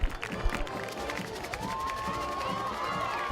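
A high school football crowd cheers and shouts after a goal-line stand, a broad steady roar under a whistle-like tone and commentary.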